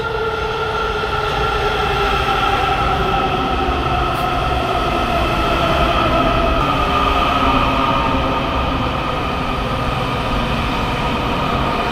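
A metro train pulls into a station, its steady loud rumble and rising wheel whine filling the platform continuously for the whole stretch, with no talk over it.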